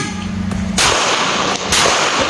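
Pistol shots at a shooting range, fired outdoors: two or three sharp, loud cracks in quick succession, each followed by a broad burst of noise and a short decay, with no talk.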